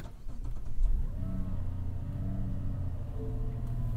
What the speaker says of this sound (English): Notice some pretty aggressive starts to this car.